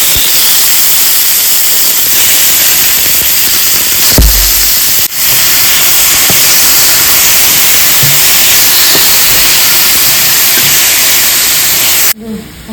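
A small splash of oil heats in a hot pan before chicken fried rice, giving a loud, steady hiss that fills the whole stretch, broken by a brief thump and clatter midway, then cutting off abruptly at the end.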